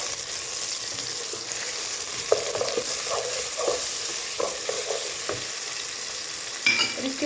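Tomatoes go into mixed vegetables frying in a pan, giving a steady hiss of sizzling oil with scattered clinks and scrapes of stirring, close and continuous with no talk.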